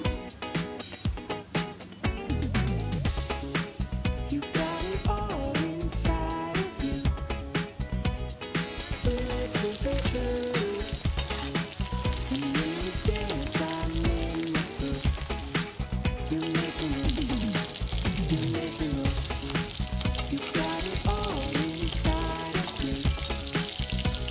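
Chicken pakoda pieces frying in hot oil give a constant, dense crackling sizzle that runs unbroken for the whole stretch, with a melodic background layer mixed in.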